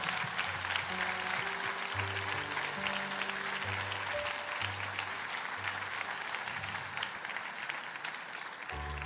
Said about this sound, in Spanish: Dale ese aplauso de gloria a nuestro Dios